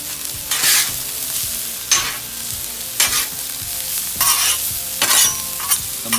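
Steak sizzles loudly in a pan with fresh garlic, a constant frying crackle close up, with bursts of stirring and scraping every second or so.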